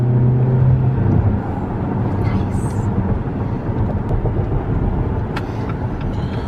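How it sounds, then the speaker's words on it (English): A 2018 Jeep Compass Limited engine rumbles loudly in a continuous low drone while accelerating, with road noise and a muffled voice briefly underneath. "the engine turns back on by itself again"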